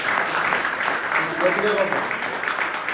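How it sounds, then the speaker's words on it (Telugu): A church congregation at an anniversary worship service claps in a steady, fairly loud round of applause, with voices mixed in throughout. "చప్పట్లో కొడదాం"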